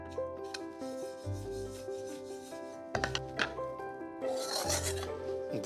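Roughly one cup of semolina being dry-roasted in a pan while stirred, giving a steady gritty scraping and rasping of spoon against metal, close and continuous, with sharper scrapes near the middle and end.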